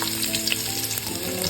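Sliced onions, three of them, frying in oil and ghee with cumin for chicken biryani, a dense close sizzle with short stirring clicks, steady throughout and no talking.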